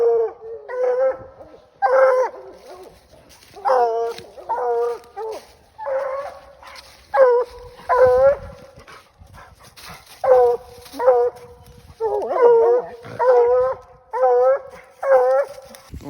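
Coon hunting dogs bay at a tree, a steady run of loud, ringing howls and barks repeating every second or so over about sixteen seconds, close by and outdoors, with a voice talking faintly under them.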